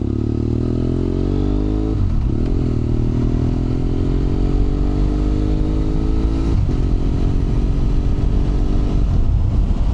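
A BMW F800R motorcycle fitted with a HealTech quickshifter pulls hard at close range, its engine note climbing through gears with brief dips at each quick upshift, steady and loud throughout.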